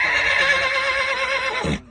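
A Sindhi horse from Kutch, Gujarat, brought to a fair for sale, lets out one long, loud whinny with a wavering pitch, close by, ending abruptly with a short low snort.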